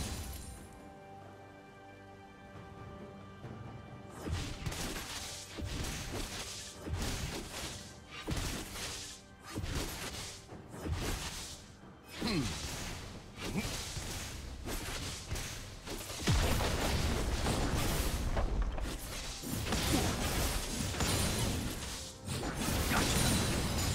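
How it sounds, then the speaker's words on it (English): Turret destruction in the League of Legends video game: a dense run of loud crashing impacts, whooshes and thuds in quick succession over steady game sound, growing heavier and more continuous toward the end. "Blue team's turret has been destroyed."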